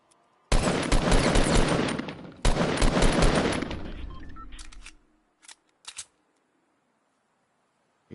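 Sustained bursts of automatic gunfire in the video game Fortnite on PS4, two long loud rapid-fire strings followed by a few short isolated shots, with no talking.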